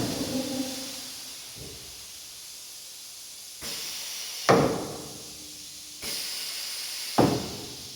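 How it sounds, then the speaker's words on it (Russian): An ITAL-PLASTICK S2L two-head PVC window welding machine cycles, giving sharp pneumatic hisses and clunks at intervals, with releases followed by fading air noise, close and loud. "Двухголовый сварочный станок,"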